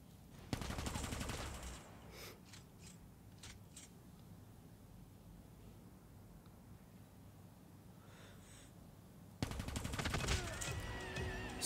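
Call of Duty gunfire comes in two loud bursts of rapid automatic fire at the start and end, with a quiet stretch between holding a few faint shots and clicks.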